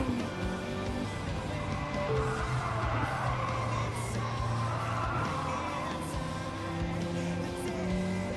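Engine drone with screeching tire skids from Gran Turismo 7, the squeal rising and falling through most of the stretch.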